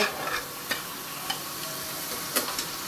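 Mango pieces cooking with sugar sizzle steadily in a pan while a spoon stirs through them, with a handful of distinct scraping knocks against the pan over a constant close frying hiss.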